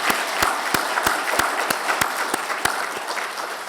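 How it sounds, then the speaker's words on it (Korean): A church congregation claps at a Sunday service to welcome a teacher, loud sustained applause from a large crowd with sharp regular thumps running through it. "큰 박수로 우리 기쁘게 환영하시죠."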